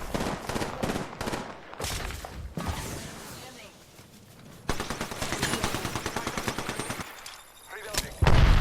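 Rapid bursts of gunfire from the battle-royale game Apex Legends, in a solos match, with loud firing runs, some fast automatic volleys, a quieter stretch and a heavy impact at the end; there is no talk.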